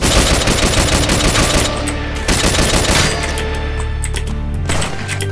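Loud, rapid bursts of video game sniper rifle gunfire with sharp cracks and echoing booms, dense at first then thinning into scattered shots.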